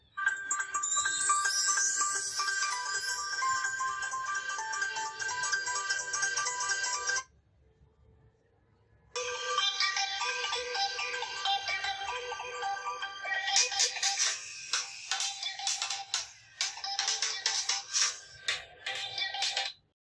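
A bright electronic ringtone melody plays loudly at full volume through a Lenovo K8 Plus smartphone's Dolby Atmos speaker, pausing briefly before resuming with a busier, percussive section.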